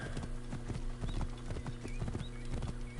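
Horse hooves clip-clop at a steady trotting pace in Assassin's Creed Origins, crisp repeated footfalls over a constant musical drone, with faint game effects above.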